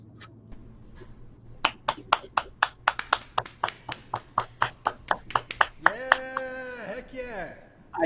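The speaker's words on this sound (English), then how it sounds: "I did that deliberately so that we could sandwich Tim with the applause here." Applause played into a remote folk music show: a burst of sharp, distinct hand claps that quickens into a steady patter, then gives way to a voice singing at the end.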